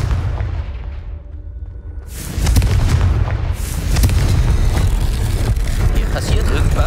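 A Confringo fire spell from Hogwarts Legacy bursts loudly about two seconds in, followed by sustained rumbling blasts and crackling debris that hold at a steady, heavy level to the end.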